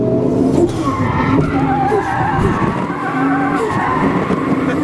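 A car skids at a Toyota racing festival at Hampton Downs, tires squealing in loud sustained wavering tones over engine roar for several seconds, close and intense, with no talk.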